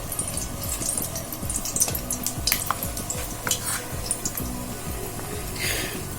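Pakora batter spooned into hot oil sizzles and bubbles steadily, with soft spoon clinks and stirring noises close by throughout.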